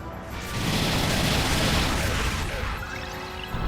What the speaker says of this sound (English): I like how long that explosion lingers.